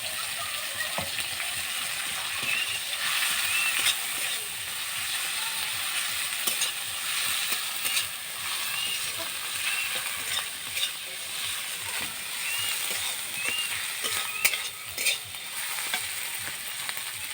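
Chopped tomato and ginger paste fry in a pan for a pointed gourd and prawn dish, giving a steady close sizzle with occasional scraping stirs and sharp spatters throughout.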